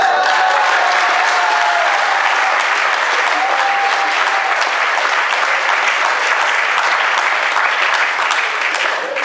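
Steady, loud audience applause at a comedy show fills the whole stretch, dense clapping from a large crowd without a break.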